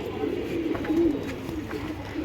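Giribaz racing pigeons in a cage give soft, low cooing, steady murmurs swelling slightly near the middle, heard close with some background noise and no talk.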